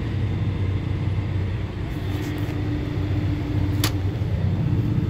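A John Deere 7730 tractor pulls a disk through a soft field with its wheels spinning; a steady low engine drone and churning rumble run throughout, with a brief faint clank partway through and no talking.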